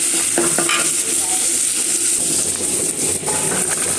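Onions sizzle and bubble steadily in a hot pan of oil, a loud, continuous crackling fry with a few soft stirring clinks near the start and no talking.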